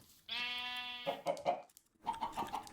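Sheep in the Minecraft video game bleat in quick succession, a long wavering bleat followed by shorter ones, clear and close with no talk.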